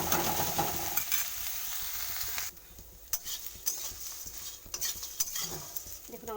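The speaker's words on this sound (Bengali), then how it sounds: "ভালো করে উল্টি পাল্টি লাল করে ভেজে নেব, কড়কড়া করে" Fish scales frying crisp in a pan for a pumpkin stew, a steady close sizzle broken by scraping stirs and clicks of a utensil against the pan, louder in the first half and then softer, with no talk.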